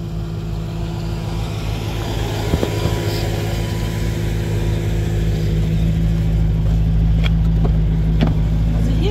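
Mercedes W220 S500 V8 idling steadily, a low constant engine hum holding at one pitch throughout, with a few faint clicks and knocks over the top.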